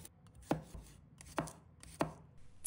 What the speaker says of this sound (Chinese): 几个大蒜，把它切成片